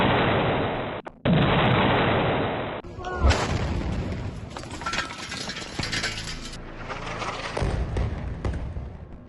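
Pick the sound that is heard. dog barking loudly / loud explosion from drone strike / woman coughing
loud explosion from drone strike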